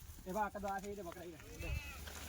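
A Kathiawari goat bleats nearby, a wavering cry amid a short stretch of background talk.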